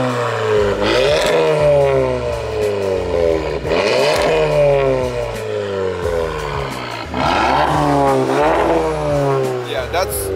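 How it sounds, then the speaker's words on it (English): Volkswagen MK7 GTI with a new downpipe exhaust revved about three times in repeated rising sweeps, loud and close, with people talking over parts of it. "Alright, give it 2-3 good revs."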